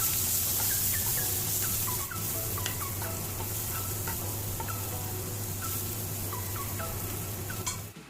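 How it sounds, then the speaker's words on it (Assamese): Mashed boiled potatoes being stirred in a pan, a continuous scraping and sizzling texture with scattered small clinks and squeaks from the utensil, steady and close throughout. "এতিয়া আটাইখিনি এবাৰ ভালদৰে লৰাই দিম"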